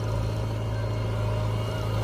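A JCB 3DX backhoe loader's diesel engine runs steadily and loudly up close while its bucket loads mud into a tractor trolley, a constant low drone with no break.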